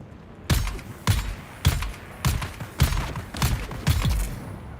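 Grenades explode one after another in the video game Dune, seven sharp, loud booms spaced roughly half a second apart, each with a brief rumbling tail.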